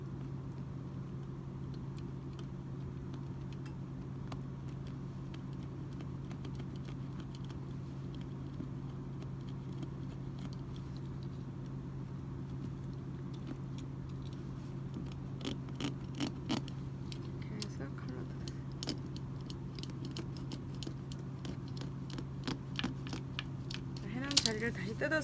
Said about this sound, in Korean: 칼로 뜯어 보겠습니다